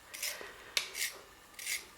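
A pencil turned in a pencil sharpener, three short close rasping grinds separated by brief pauses, with no talking.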